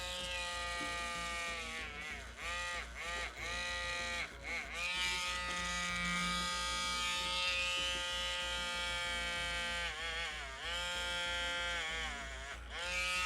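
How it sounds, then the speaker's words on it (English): A small rotary buffing tool polishes buildup off the heads of security screws, giving a steady high-pitched whine that dips briefly in pitch several times as the tool bears down, with no talking. "I'm going to buff the heads of these screws real quick"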